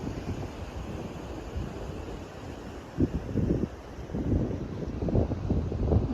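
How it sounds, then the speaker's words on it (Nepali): Wind blows outdoors beside a stream in North Sikkim, rumbling in low, uneven gusts that buffet the microphone and swell toward the end. "हावा चाहिँ आउँदो रहेछ"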